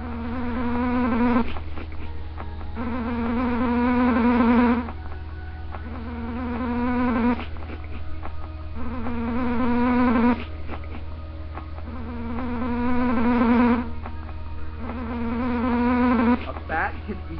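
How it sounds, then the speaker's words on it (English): Mosquitoes buzz in a bat-themed video game, a droning insect whine in repeated bursts about a second and a half long with short gaps between them, steady and fairly loud with no talking. "You need to catch fresh mosquitoes to beat the game."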